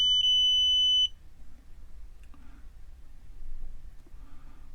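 Multimeter continuity beep while probing a soldered ESP32 module pin on a VT132 board, one clear steady tone for about a second that cuts off, then quiet room background.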